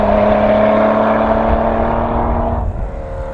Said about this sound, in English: The most minute prod of that gas pedal results in instantaneous acceleration all the way up to the red line.